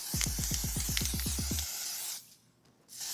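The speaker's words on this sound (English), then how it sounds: "you're just gonna wanna lightly spray it, just a mist" A fine spray of foundation setting mist hisses close up in a steady burst, pauses briefly, then starts again.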